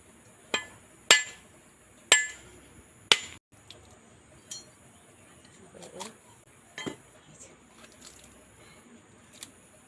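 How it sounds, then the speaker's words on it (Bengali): A coconut being cracked open in a kitchen: four sharp, loud knocks in a steady rhythm, then softer scattered taps and cracks close by. "এরপর আমি নারকেলটাকে ফাটিয়ে নেব।"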